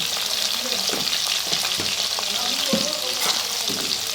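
Two large potatoes, diced and salted, frying in hot oil in a home kitchen, a loud continuous sizzle with scattered crackles and spoon scrapes, close up and without voices.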